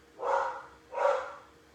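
A Labradoodle indoors gives two separate woofs about three-quarters of a second apart, moderately loud, with no one talking.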